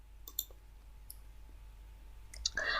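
A computer mouse clicks on a submit button on an online form: a few faint, sharp clicks spaced apart in a quiet room, with a slightly louder rustle of movement at the end.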